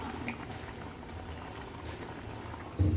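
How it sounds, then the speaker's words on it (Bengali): Matar paneer curry bubbles in a pan, a soft, steady gurgling boil heard close and alone, with a sudden clunk near the end. "একটুখানি ফুটে যাক তরকারিটা"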